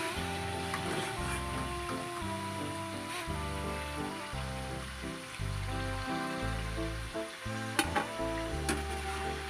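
Crispy potato snacks deep-frying in hot oil give a steady, dense crackling sizzle with a low bubbling rumble beneath, continuous and close, with a couple of faint clinks near the end and no voices.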